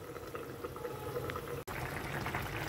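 Fish curry simmering covered over a high flame, a soft steady bubbling and hiss of steam from the pot, faint and continuous with no voices.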